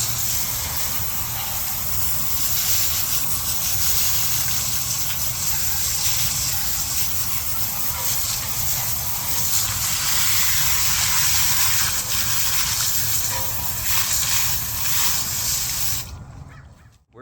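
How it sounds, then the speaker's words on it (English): A strong spray of water rinses wheel cleaner off a car tire and wheel as a loud, steady hissing gush that holds close and constant before cutting off at the end. "And now that we've wiped it off, we just rinse it."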